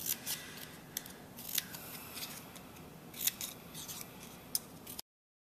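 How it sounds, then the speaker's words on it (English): Scissors snipping into paper flower petals in a series of quick, crisp cuts, close and fairly quiet against faint background hiss. "take your scissors and cut into each petal like this"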